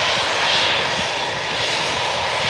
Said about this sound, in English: That's a loud Embraer,